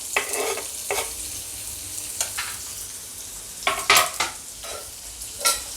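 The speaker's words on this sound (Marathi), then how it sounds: "तेल जसं गरम झालं यात मी दोन कांदे घेतले आहे बारीक अगदी चिरून घेतले त्याला ते टाकूया" Two finely chopped onions frying in hot oil, a steady sizzle broken by repeated spatula stirs that bring louder crackling bursts, close up with no talking.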